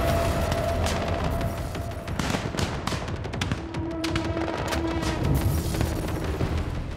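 Gunfire and explosions in a Kargil War documentary, a dense, continuous battle roar with scattered sharp cracks and rumbling booms across the whole stretch, loud and unbroken.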